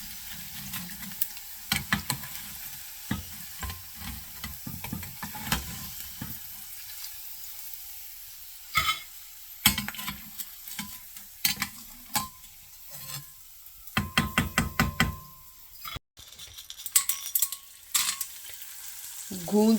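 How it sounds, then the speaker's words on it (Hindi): Edible gum (gond) frying in hot ghee, a steady soft sizzle broken by repeated clattering stirs and scrapes of a spoon in the pan, with a few brief bursts of running water. "गूंद को हमने गर्म घी में डालना है और फिर बाद में हमने फ्लेम लो कर देना है।"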